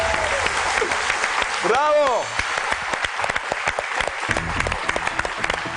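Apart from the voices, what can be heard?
studio audience applause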